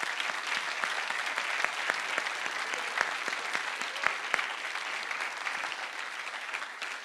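An audience at a fintech recruitment workshop applauding the Digital Learning Hub, a round of many hands clapping with distinct individual claps standing out, moderately loud and fading slightly at the end.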